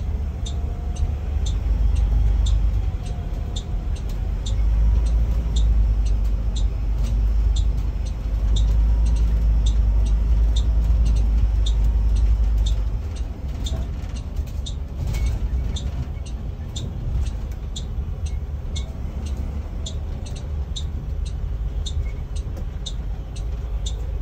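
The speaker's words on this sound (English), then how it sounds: "what I want to do is to drive and position my bus parallel to the box." A Class B school bus engine rumbles steadily at close range as the bus drives around to line up for parallel parking, with low drone and faint rattling throughout and no clear talking.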